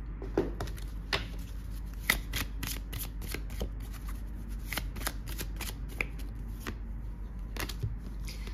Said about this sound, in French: Je vais prendre une carte de l'archange.